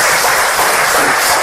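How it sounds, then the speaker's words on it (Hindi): Audience applause from a crowd at a talk, a dense, loud, continuous roar of clapping hands filling the whole moment. "और खुद के लिए एक जोरदार ताली"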